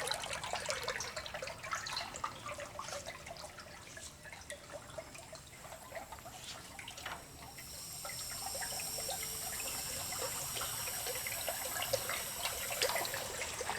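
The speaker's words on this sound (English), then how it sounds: "You still see the water coming out," Water flows and trickles steadily into a plasma cutting water table as it fills under low pressure, a soft continuous splashing that grows a little fuller partway through, with no voices.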